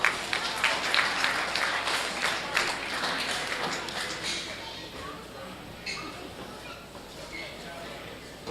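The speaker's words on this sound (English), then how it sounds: "Let's send our middleweights out with a nice last round of applause" Audience applause at a county fair swine show, a scattered ring of clapping that starts fairly strong and gradually thins out and fades over several seconds in a large, open space.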